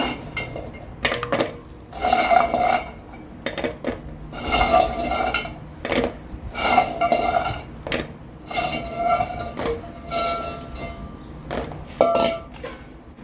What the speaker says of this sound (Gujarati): હવે આપણે જે આ ગુલાબજાંબુ તળીને રાખ્યા છે તેને આપણે એમાં એડ કરી દઈશું